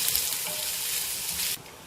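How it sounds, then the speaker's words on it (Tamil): Onions go into hot oil where mustard seeds have already spluttered, making a bright steady sizzle that cuts off sharply near the end to a quieter hiss, with no speech. "இதில் வெங்காயத்தை சேர்த்துக்கலாம். நல்லா வதக்கிக்கலாம் நிறம் மாறுற வரைக்கும்."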